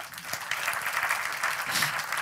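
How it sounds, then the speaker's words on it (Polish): Audience at a film festival opening ceremony clapping steadily, a dense, even wash of applause from a sizeable crowd lasting a couple of seconds, heard alone at moderate level. "Brawa."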